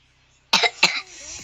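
Two quick, close coughs in a row, sharp and raspy, followed by a short trailing breathy sound.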